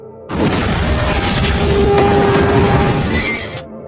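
A loud, deep boom from a large explosion in outer space in the film Geostorm erupts and rumbles on for a few seconds as a sustained roaring blast, then cuts off abruptly.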